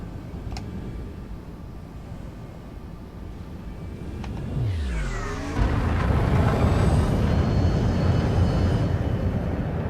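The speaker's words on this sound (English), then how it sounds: "Ship released. Engines engaged." Spaceship engines engaging in a video game: after a low hum with a couple of clicks, a rising, sweeping whine spools up and settles into a loud, steady engine roar.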